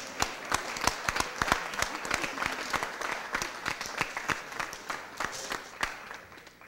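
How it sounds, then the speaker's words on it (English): Scattered applause at a Board of Aldermen session, with a small group clapping in a room. Sharp individual claps stand out close and uneven over a softer patter, tapering off toward the end. "Give them a round of applause again"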